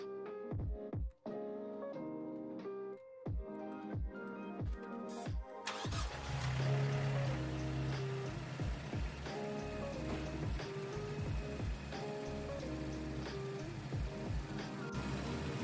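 A Mazdaspeed 3's engine starts midway through, during a coolant flush and bleeding job, then settles into a steady close-up idle; quieter tonal knocks and clicks come before the start.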